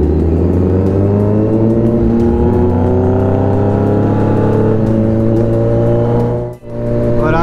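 Superbikes, a Suzuki Hayabusa and a Ducati fitted with aftermarket exhausts, fly past with a loud, sustained high-revving engine roar that rises in pitch, briefly dropping out near the end before returning.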